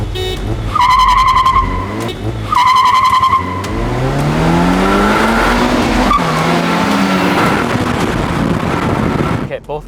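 Two sports cars, a 2025 Toyota GR86 with a 2.4-liter FA24 flat-four and a Mazda MX-5, race side by side, engines loud and close with rising revs through the gears and brief tire squeal.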